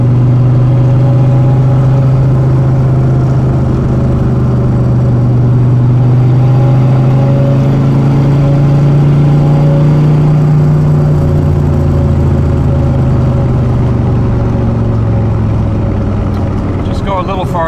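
A 1971 Chevy Corvette engine drones steadily and loudly from inside the car while driving, its pitch rising and falling slightly as the gears are shifted.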